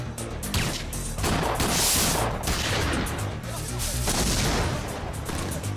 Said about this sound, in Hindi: कस्टम वाले फायर करो, फायर करो